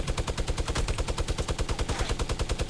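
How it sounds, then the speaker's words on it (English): Rapid automatic gunfire in a multiplayer shooter video game, a loud, close, evenly spaced burst of many shots fired in a continuous stream with no pauses, nobody speaking over it. "someone's shooting at me"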